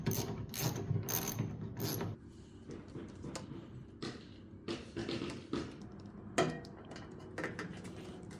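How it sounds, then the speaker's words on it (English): Ratchet with a 10mm socket tightening nuts while assembling a Harbor Freight 2hp dust collector, giving a fast run of sharp clicking bursts up close, then sparser clicks and taps. "if you have a 10mm socket and a ratchet, it'll make this a lot easier to tighten this down"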